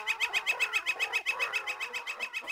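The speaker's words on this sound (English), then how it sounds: "Birds of all sizes, big and small, flew onto the ship." Birds chirp and call in a steady, rapid rhythm, with a bright repeated note sounding continuously and fairly close.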